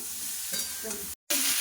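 Spices frying in oil in a pan give a close, steady sizzle that cuts out briefly, then returns just as strongly.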